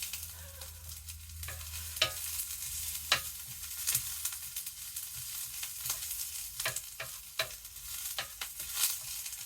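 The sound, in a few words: sautéing peppers and onions in a pan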